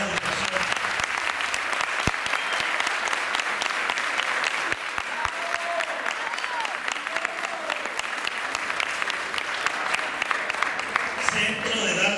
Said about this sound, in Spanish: Fuerte aplauso para todas las instituciones.